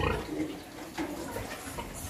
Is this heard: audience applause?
no